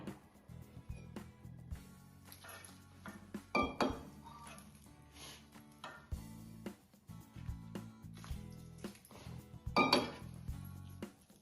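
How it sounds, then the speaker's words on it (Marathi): Potato and fenugreek puri dough is kneaded by hand in a metal bowl, producing soft irregular thumps and scrapes with repeated clinks and rattles of the bowl, fairly quiet and close, with no talking. "हे आपण छान मळून घेऊया।"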